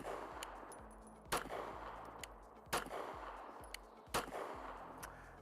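A Canik TP9SFx pistol fires four sharp, loud shots at irregular intervals of roughly a second and a half, each crack followed by a brief ringing decay, with no voices.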